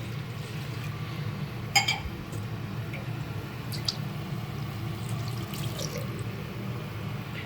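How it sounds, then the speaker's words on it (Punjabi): Water is added slowly to a buttermilk and gram-flour mixture during cooking, making a soft, steady wet wash with faint splashy clicks at a low level and no talking. "ਪਾਣੀ ਪਾ ਕੇ"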